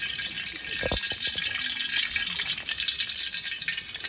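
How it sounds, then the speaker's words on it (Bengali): White refined oil poured into a pan for frying, giving a steady broad hiss with a brief low splash near the start, moderately loud and close with no voices. "এবার কিন্তু সাদা তেল দেওয়া হচ্ছে 500 গ্রাম।"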